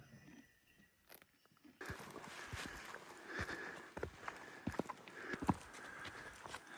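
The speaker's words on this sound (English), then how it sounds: "Mountain horse." A mountain horse's hooves clip-clop on a trekking trail high in the Himalaya near 4,200 meters, a series of irregular nearby thuds and knocks over faint background ambience.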